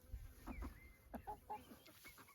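Several chickens, roosters and hens, cluck and murmur softly at close range on grass, with short irregular calls overlapping against a faint outdoor background.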